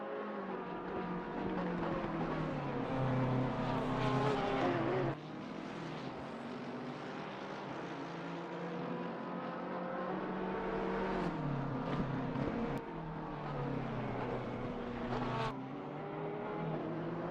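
Race cars, including GTD Pro machines, battle around Mount Panorama in sim racing, with layered engine notes rising and falling through gear changes and several cars blending together in a continuous moderate roar.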